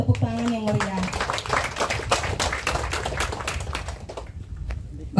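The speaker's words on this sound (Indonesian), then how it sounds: "diberikan tepuk tangan yang meriah" Audience applause rings out at a party official inauguration ceremony in Teluk Wondama, a dense spread of close clapping that gradually thins and fades, with a brief voice at the start.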